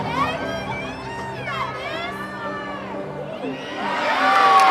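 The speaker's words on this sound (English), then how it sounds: "the crowd went wild for that one" Crowd cheering and whooping at a college gymnastics meet after a balance beam routine, a steady roar of voices that swells louder toward the end, with excited shouts rising over the noise.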